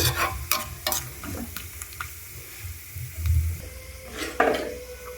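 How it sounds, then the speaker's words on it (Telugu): Dry fruits fry in homemade ghee with a close, crackling sizzle, punctuated by repeated clinks and scrapes of a spoon against the pan. "మంచిగా గోల్డెన్ కలర్ వచ్చేటట్టు వేయించుకోవాలి"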